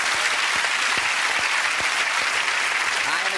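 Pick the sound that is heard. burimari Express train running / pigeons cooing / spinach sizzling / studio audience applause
studio audience applause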